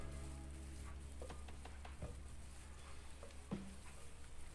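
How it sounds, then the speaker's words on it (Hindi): Finely chopped ginger frying in a pan over a medium flame, a steady low sizzle with scattered soft crackles and pops running throughout. "इसमें अब अदरक डाल दूँगी जो मैंने बारीक बारीक काटी है। इसको भी फ्राई कर लूँगी मैं।"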